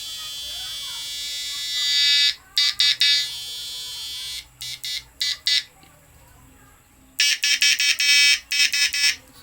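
An electronic buzzer on a DIY fish stunner flip-flop driver circuit screeches in loud, rapid pulsed bursts separated by short pauses, with a voice talking faintly between them.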